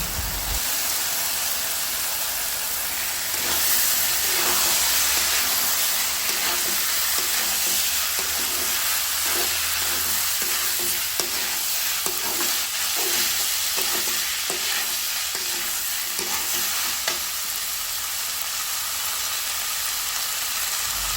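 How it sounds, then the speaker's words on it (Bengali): Rice is stirred and sautéed with fried spice paste for egg khichuri, a dense continuous sizzle with a rhythmic run of spatula scrapes near the middle, close and steady, no voices. "চাউলগুলো নেড়ে চেড়ে মশলার সাথে ভালোভাবে মিশিয়ে বেশ কিছুক্ষণ কষিয়ে নেব"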